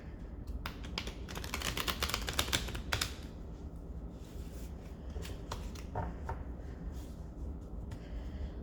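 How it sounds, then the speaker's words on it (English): A deck of soul coaching oracle cards being shuffled, a dense burst of rapid riffling clicks near the mic, followed by a few sparser card flicks and light handling, with no talking. "So let's shuffle the deck."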